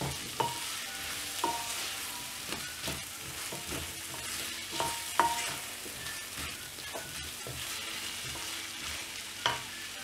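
Potatoes and drumsticks fry in a pan for a prawn and quail egg curry, giving a steady broadband sizzle with scattered scrapes and clinks of stirring over about ten seconds.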